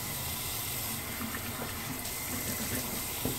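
Tap water runs steadily into a sink while someone rinses off after a wet shave, a constant close hiss and splash with no talking.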